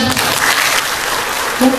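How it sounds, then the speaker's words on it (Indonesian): Seminar audience applauding in a hall, a short burst of clapping running steadily for under two seconds with a faint voice mixed in. "Kasih tepuk tangan dulu dong teman-teman."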